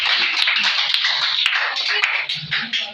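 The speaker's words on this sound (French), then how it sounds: "Applaudissez encore pour elle." A church congregation claps together, a dense, continuous patter of many hands applauding nearby for about three seconds.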